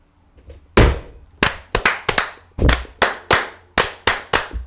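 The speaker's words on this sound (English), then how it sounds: "First clap was a little off." Group of people clapping hands together in rough unison at a lodge, a first sharp clap followed by a string of loud, evenly timed claps, slightly ragged rather than perfectly synchronized.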